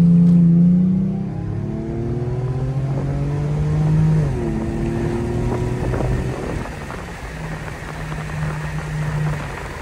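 Infiniti G35 car accelerating on a street, engine tone climbing in pitch through several gear pulls with shifts between, loud and close from inside, with wind and road noise rising under the revs.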